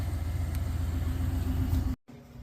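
A GM engine in a Chevrolet Camaro idles steadily after a few minutes of warm-up, a low, even rumble close by that cuts off abruptly near the end, followed by a quieter tail.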